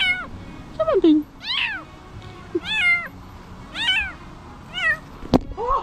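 A cat meows repeatedly in a series of clear, rising-and-falling cries spaced about a second apart, close and fairly loud, with a sharp thunk near the end.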